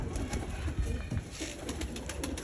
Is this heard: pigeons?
yes